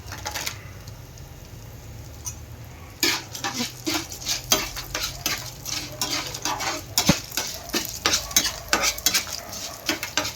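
Chana dal and cashews stirred in a hot pan as they fry, a steady sizzle under repeated spatula scrapes and clinks against the metal, close and fairly loud after a quieter opening few seconds.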